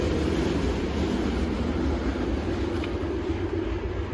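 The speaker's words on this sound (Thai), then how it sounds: "รถไฟนะคะ" A steady low rumbling roar of a passing train, continuous and moderately distant, with no talking.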